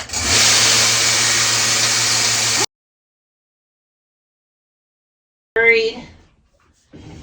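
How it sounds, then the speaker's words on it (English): A milking machine motor runs with a steady, loud mechanical hum for a few seconds and then cuts off into silence, followed by a brief voice. "So I'm going to turn on the machine."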